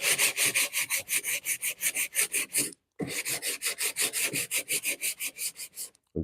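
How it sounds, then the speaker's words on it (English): Hand sanding of filler on a wooden Danish bookshelf: steady, rhythmic back-and-forth rasping strokes, close and fairly loud, with a short break near the middle and another just before the end. "It would be a lot easier to be sanding Timbermate for this."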